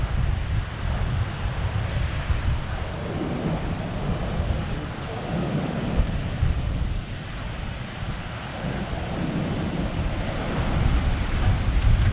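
Strong wind buffeting the microphone on Scheveningen beach in The Hague, with surf rolling underneath, a loud continuous roar lasting the whole time without talk.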